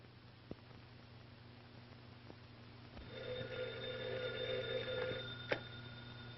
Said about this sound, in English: Telephone. Telephone. Phone.